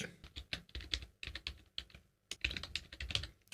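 Computer keyboard typing while entering code for an FNV-1a hash, quiet irregular bursts of close key clicks separated by short pauses.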